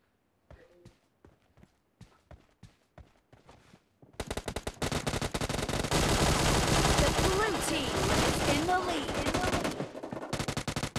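Gunfire in PUBG Mobile team deathmatch: a few sparse single shots at first, then a long continuous burst of rapid automatic fire, loud and close, with a voice talking briefly over it.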